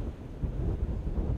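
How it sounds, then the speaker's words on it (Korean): Steady wind roars at sea during a lure-fishing trip for sea bass among rough waves, a continuous low buffeting rush against the microphone with no talking. "오늘 바람이 문제인 것 같습니다"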